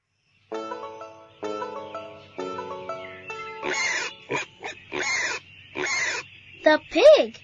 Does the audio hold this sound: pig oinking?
yes